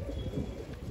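A pigeon coos low and soft in a brief murmur near a rooftop tank among a flock of pigeons, with a steady low rumble underneath.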